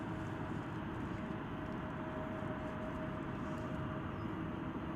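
An airplane takes off from runway 18 left at DFW Airport, a steady distant jet engine rumble that holds level throughout, with a faint high tone running underneath.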